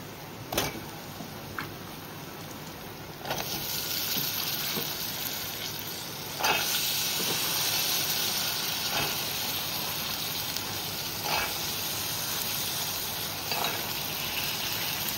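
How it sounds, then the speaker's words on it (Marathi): Spices sautéing in a pan, then cowpeas, brinjal and potato tipped in: a steady close sizzle and fry hiss with scattered stirring scrapes and a few louder thuds as the vegetables land. "एक मिनिट परतून घेऊ मसाले आणि याच्यामध्ये चवळी, वांगा आणि बटाटा टाकूया"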